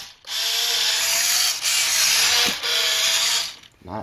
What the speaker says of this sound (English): Not a very highly powered or high-powered steering motor.